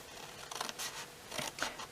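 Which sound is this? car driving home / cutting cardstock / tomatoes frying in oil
cutting cardstock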